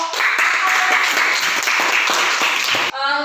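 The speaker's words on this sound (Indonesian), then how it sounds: "kita berikan tepuk tangan untuk kelompok" Classroom applause for a student group, a dense steady patter of many hands clapping close by for about three seconds before cutting off abruptly.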